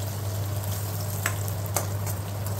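Stuffed bitter gourd fries in oil as it is stirred, giving a steady sizzle under a low hum with two faint clicks of the utensil.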